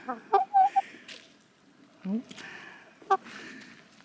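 A hen and young chicks cluck in short bursts with a few brief squawks, close by, with quiet gaps between calls and a faint murmur of background noise.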